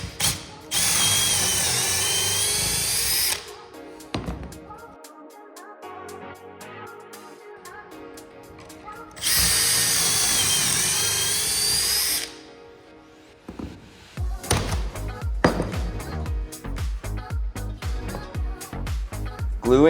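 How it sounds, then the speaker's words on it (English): A power drill boring pocket holes into a wooden board held in a jig, two long steady high whines of about three seconds each, then a rapid ratcheting clatter of the bit and tool near the end. "lining up the first and then second lines, drilling your pocket holes"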